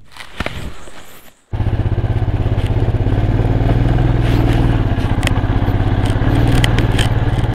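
A motorcycle ridden over a rough, broken road in Mizoram, its engine kicking in loudly after a brief quieter stretch, then a steady close rumbling drone with scrapes and rattles from the bumpy surface.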